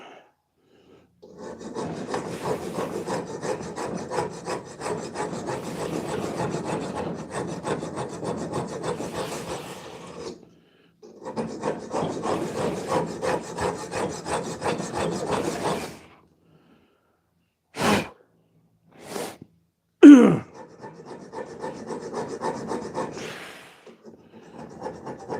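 A dagger blade worked by hand with a file and scraper, producing long rasping strokes in two sustained bursts of rapid rhythmic scraping, followed by a few short sharp scrapes and a brief knock, close and fairly loud.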